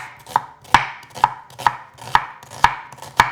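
A knife cuts an onion into strips on a board, seven crisp, evenly spaced chops close by, with no talking.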